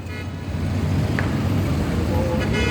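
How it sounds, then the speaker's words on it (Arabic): Busy road traffic fills a large Cairo intersection near the Mohamed Naguib overpass, a steady dense roar of cars and heavier vehicles with a brief horn toot, heard from nearby. "ادي التقاطع وزحمته النهارده"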